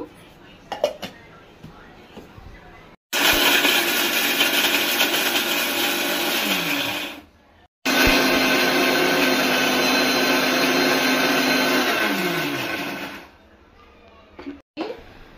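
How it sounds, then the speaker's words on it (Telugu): A mixer grinder whirs loudly as it grinds whole spices with coriander seeds, dry coconut and ginger for chicken curry, running in two long bursts with a brief stop between, and short pauses of quiet handling at the start and end. "చెక్క, లవంగా, దాల్చిన చెక్క, లవంగా, ధనియాలు, ఎండు కొబ్బరి, అల్లం వేసి మిక్సీ పడుతున్నాను"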